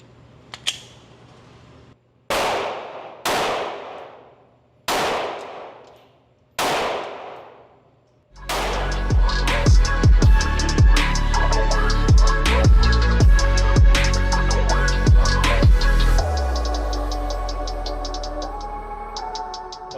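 A Glock Gen 4 pistol fitted with a Derya DY9 Island ported upper fires at an outdoor range. Four loud single shots come at even spacing, followed by a fast string of shots with ringing metallic echoes that fade out.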